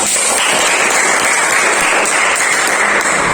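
Loud, continuous clapping from students in a junior high school classroom, a steady close wash of many hands with no talk over it.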